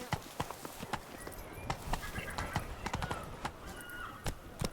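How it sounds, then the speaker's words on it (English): Roach the horse gallops in The Witcher 3 with rapid, rhythmic hoofbeat clip-clops and a loud whinny, the game sounds close and steady throughout with no talk over them. "Run, Roach"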